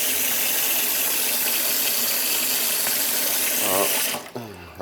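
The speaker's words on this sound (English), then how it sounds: "Just water in the sink, okay?" Tap water gushes steadily into a sink, a loud, continuous rush that holds for about four seconds, then cuts off, leaving faint drips and trickles.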